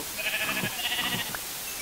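Soft, repeated bleats from a sheep in Minecraft, a few short calls over a low steady background hum, with no talking.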